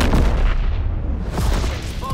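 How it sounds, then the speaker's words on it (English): A V2 rocket launch blast in a WW2 combat video game: a loud, sustained booming roar fills the whole clip, dense and rumbling like heavy artillery, with no voices over it. "Launching V2 rocket."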